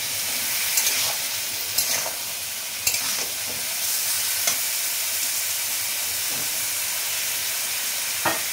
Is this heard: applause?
no